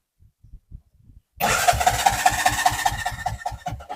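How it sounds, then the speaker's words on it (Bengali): A CNG auto-rickshaw engine cranks and catches after a quiet moment, settling into a loud, steady, throbbing small-engine idle with a rapid pulsing beat. "ইঞ্জিনের সাউন্ডটা কিরকম পাবেন এই চাবি আমি অন করলাম"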